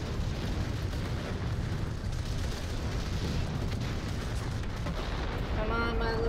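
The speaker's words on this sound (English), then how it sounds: "Start walking this artillery up." Artillery barrages in the VR strategy game Final Assault on PC rumble continuously, with deep booms and blasts blending into a loud, unbroken roar.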